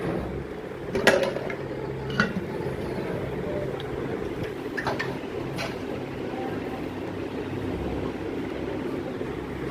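A new pot, spoons and a rice measure clink as they are handled, giving a few sharp metallic taps spaced out under someone talking nearby.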